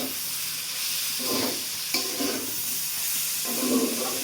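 Tomato goes into a frying pan of noodle preparation with green chillies, hissing and sizzling steadily as a spoon stirs through it in bursts, close and moderately loud.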